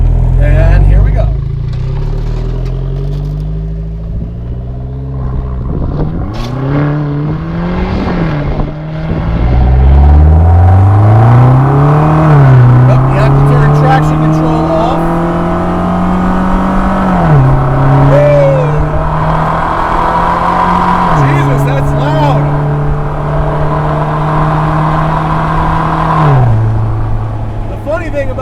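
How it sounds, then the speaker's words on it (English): A Vanderhall Laguna with side pipe exhausts, shifted manually with paddle shifters, revving loud and close as the engine climbs through gears with rising pitch sweeps and drops at each shift, with a voice talking over it. "It's got side pipe exhausts, so it's pretty loud."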